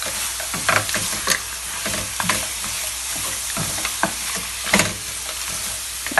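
Tomato puree and cayenne being stirred in a pan for a lobster mac and cheese sauce, with a soft sizzle throughout and irregular scraping, clinking spoon strokes, close and moderately loud.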